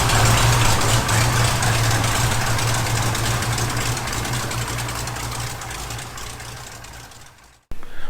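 A Plymouth Cuda's engine idles close by with a steady, even low rumble that runs unbroken for about seven seconds. It cuts out abruptly near the end, and no one speaks.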